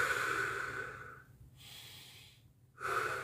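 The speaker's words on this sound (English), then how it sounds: "So I'm gonna be breathing with my belly first." Deep belly breathing during a qi gong session: a long exhale, a pause, then another exhale and inhale, soft and close with quiet gaps between breaths.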